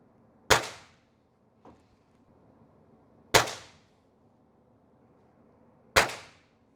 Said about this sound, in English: I'm going to fire 6 or 8 rounds and see how we do out of the box